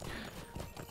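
Horse hooves clip-clop in Lord of the Rings Online as a mounted character travels, a steady close rhythm of soft thuds over a constant layer of game ambience.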